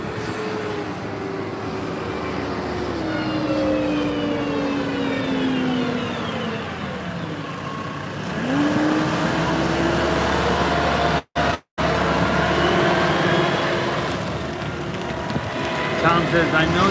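Trucks and other vehicles pull in at the SpaceX Starbase main gate in Boca Chica, Texas. Engines drone and shift pitch as each one rolls past, under steady wind noise, with a short dropout partway through.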